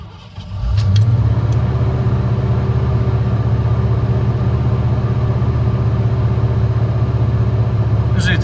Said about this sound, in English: we're gonna do a cold start on this 89 Bronco